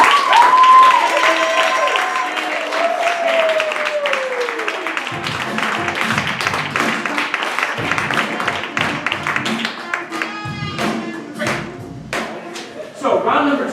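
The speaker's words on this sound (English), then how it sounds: "So let's give a round of applause for" Applause and cheering from an audience at an improv monologue slam show, loud at first and thinning into scattered claps, with voices and a whistle mixed in.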